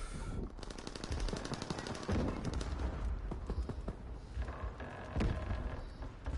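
Rapid machine gun bursts rattle almost continuously in Call of Duty WWII multiplayer, with scattered heavier booms and gunshots mixed in. The battle sounds are dense and loud throughout.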